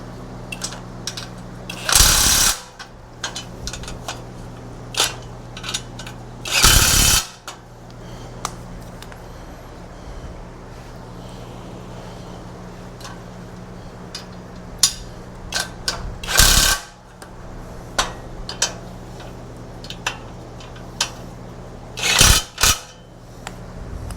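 A power tool tightens bolts on an old Harbor Freight ATV lift being upgraded: four or five short, loud bursts spaced several seconds apart, with a steady low hum running underneath.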